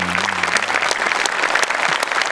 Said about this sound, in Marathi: साहेबांसाठी एकदा जोरदार टाळ्या होऊन जाऊ देत.